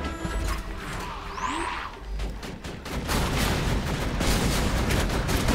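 Shotgun mechanism clacking and ratcheting in Borderlands 2 gameplay, loud mechanical clicks over dense, noisy game sound that grows heavier toward the end, with a swooping effect early on.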